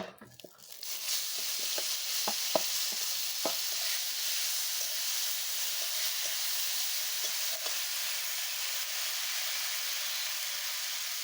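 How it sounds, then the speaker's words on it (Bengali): Onion paste dropped into hot oil with two bay leaves in a village kitchen, starting with a few clattering stirs before a loud, steady sizzling hiss takes over and continues throughout. "তেলের মধ্যে দুটো তেজপাতা দিলাম। এখন আমি দিব এখানে পেঁয়াজ বাটা।"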